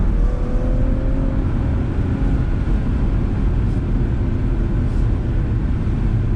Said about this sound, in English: So in sport mode, it does hold the revs a little bit higher too.